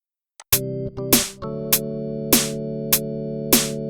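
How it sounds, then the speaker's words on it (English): Sustained Hammond B3-style software organ chords played in a steady rhythm, with a sharp percussive attack on each new chord and a held hum underneath. "It sounds like a good standard B3 kind of organ."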